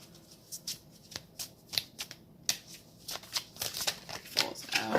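Playing cards slide, flick and tap against a tabletop in a quick, uneven run of crisp close rustles that grow busier and louder toward the end, with no voices.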